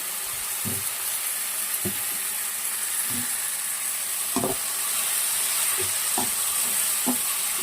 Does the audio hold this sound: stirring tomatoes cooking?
yes